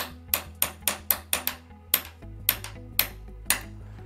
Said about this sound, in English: The hammer that I use is actually a chasing hammer for metal engraving.